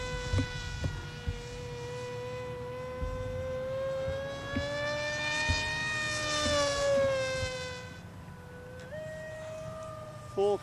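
Striker RC airplane electric motor whining at half throttle in flight, a high buzzing tone that swells and bends in pitch as the plane passes overhead, then jumps higher near the end; brief voices underneath.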